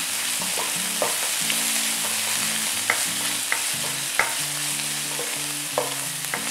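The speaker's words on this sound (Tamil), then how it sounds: "ஒரு 10-15 செகண்ட்ஸ்க்கு நம்ம சாட்டே பண்ணால் போதும்." Spring onion whites sautéed over high heat in a pan for fried rice, a steady sizzle with repeated scraping stir strokes and spatula taps, close and fairly loud, with background music tones underneath and no talking.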